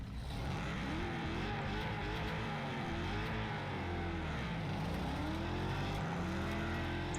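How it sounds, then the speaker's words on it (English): A Chevelle car driven around a scrapyard in the racing game Wreckfest 2, a loud continuous engine drone with wavering, rising and falling revs and rumbling tire and road noise, steady throughout. "Let's test out this guy real quick, this Chevelle, and toss it around the scrapyard."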